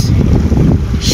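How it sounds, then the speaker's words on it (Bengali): Strong seaside wind at Changi Village, Singapore, buffets the microphone in loud, rough, continuous rumbling gusts for a brief moment. "এই জায়গা শেষ কোস্টের মতো বাতাস"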